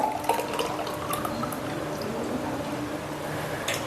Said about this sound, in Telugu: ఇప్పుడు జ్యూస్ పోస్తున్నాను గ్లాస్లో